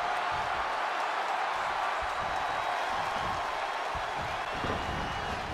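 A WWE 2K20 video game arena crowd gives a dense, continuous roar of cheering and applause that holds at a steady level throughout, with no clear breaks.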